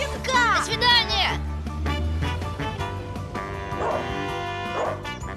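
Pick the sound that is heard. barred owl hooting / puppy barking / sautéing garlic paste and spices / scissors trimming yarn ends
puppy barking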